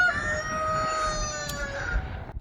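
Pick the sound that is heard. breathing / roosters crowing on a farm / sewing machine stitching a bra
roosters crowing on a farm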